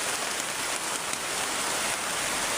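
Heavy rain pours steadily on a mountain, a dense, constant hiss of water that fills the whole clip at close range with no break or let-up.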